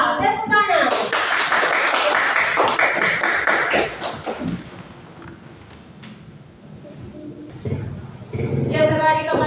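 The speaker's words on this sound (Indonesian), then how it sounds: "Tepuk tangan." Children in a classroom break into loud, dense applause for a few seconds, which fades into quieter room noise before voices return near the end.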